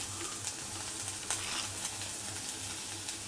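Sliced onion sautés with salt in a pan for Kerala-style pulinkari, giving a steady close sizzle with faint stirring scrapes throughout.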